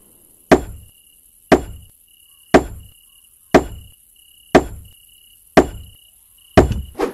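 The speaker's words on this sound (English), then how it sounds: "And then, of course, you still have to build it with your hammer." A hammer strikes a bed frame under construction in Zombie Piercer, seven sharp, evenly spaced knocks about one second apart, close and loud with no voices.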